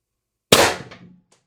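A single sharp report from a Pistelle X-68 air pistol with an 11.5-inch stainless steel barrel and 6-inch Reaper moderator, a loud crack that decays quickly, followed by a faint metallic tick.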